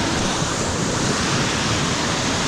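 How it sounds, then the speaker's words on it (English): Rushing water pours over two small, full creek cascades and a waterfall in the New England Tableland, New South Wales, as a loud, unbroken roar close to the listener with no voices. "There's two little cascades here, really full of water."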